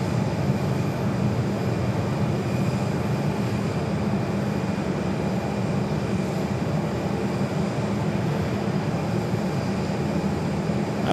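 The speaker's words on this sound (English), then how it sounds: "Next arrival is the Southwest 737-700. It's flight 435 coming in from Baltimore." A Southwest Boeing 737-800 arriving at Phoenix Sky Harbor gives a steady, moderately loud broadband jet roar that holds evenly throughout with no voices.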